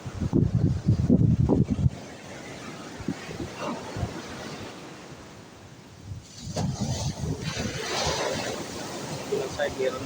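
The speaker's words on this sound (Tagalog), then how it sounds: "Problema, lakas ng alon." Strong surf rolling onto a grey-sand beach in Ilocos Sur, with boats nearby, roars in loud broad washes, fading in the middle and swelling again, with wind buffeting the microphone and a person talking over it.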